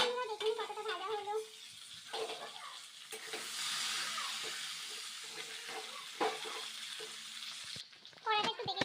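Potato pieces sizzle in a kadai, a soft frying hiss broken by stirring clatter and intermittent speech.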